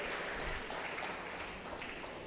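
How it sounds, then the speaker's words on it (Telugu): A church congregation claps hands loudly during a service, producing a dense, steady wash of many overlapping claps that sounds somewhat distant and stays unbroken throughout. "గట్టిగా చప్పట్లు కొట్టి గట్టిగా దేవుని మహింపరు"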